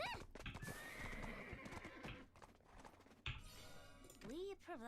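A horse in the online game Black Desert Online whinnies loudly over hoof clip-clops, with a second rising neigh near the end, all set against busy game sounds and someone talking.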